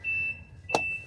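A high, steady electronic warning beep from a Subaru Sambar kei truck sounds twice with a short gap, fairly faint, interrupted by a brief clack.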